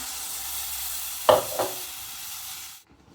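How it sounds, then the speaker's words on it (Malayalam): Thin second-press coconut milk pours into a simmering crab curry, a steady sizzling hiss with two short splashy bursts as the liquid hits the pan, then sudden silence. "നമ്മുടെ നണ്ട് കറിയിലേക്ക് 2ാം പാൽ ഒഴിച്ചു കൊടുത്തേ."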